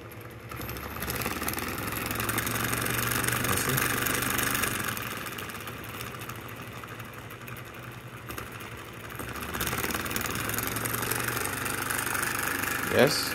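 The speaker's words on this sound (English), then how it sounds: "it make a difference in the speed of the motor, make it more powerful" A small brushless Newman motor fitted with a capacitor runs with a steady mechanical whir, close and constant, rising and falling slightly in speed while someone talks.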